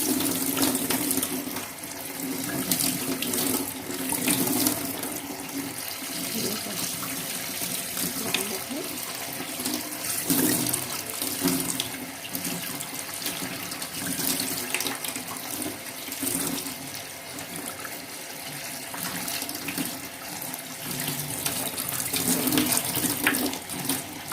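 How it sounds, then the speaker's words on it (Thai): Sago pearls rinsed under a running kitchen tap while preparing a Thai taro sago dessert, a steady close splashing stream with shifting swirls as the pearls are stirred, continuing throughout without pause. "สาคูมาล้างน้ำก่อนนะ ล้างผ่านน้ำ"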